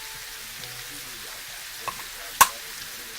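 Home fries potatoes cooking in a pan over medium-low heat, a soft, faint, steady sizzle with a couple of brief scrapes and a sharp utensil knock as they are turned.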